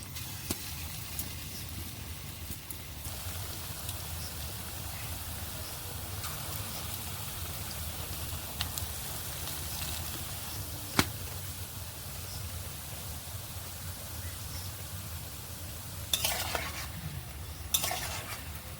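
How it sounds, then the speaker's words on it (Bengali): Palm fruit fritters frying in hot oil make a continuous, even sizzle with occasional sharp pops and a few louder crackling bursts near the end, close and steady with no voices. "এই একইভাবে কিন্তু আবার আমি ফুলগুলো ভেজে তুলে নেব"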